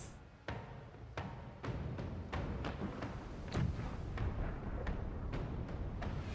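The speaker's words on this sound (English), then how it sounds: "Use the other cannons. Okay, now they are firing." Ship cannons fire during a naval battle in the video game Pillars of Eternity II: Deadfire, a regular series of about a dozen sharp booming shots over a low rumbling background.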